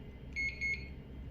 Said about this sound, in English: Double beep means it's all good